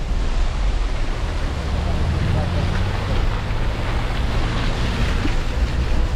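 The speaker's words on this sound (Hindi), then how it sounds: "खूबसूरत है ना ये झरना" Waterfall in West Kameng, Arunachal Pradesh roars as a constant, dense, loud rush of falling water filling the whole stretch, close and unbroken, with some wind buffeting.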